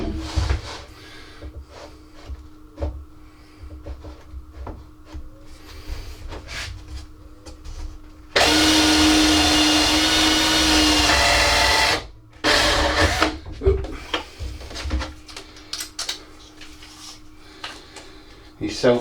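A power drill runs loud and close for about four seconds in one steady burst, drilling for a model railway layout after swarf was cleared, with voices and clattering handling noises before and after.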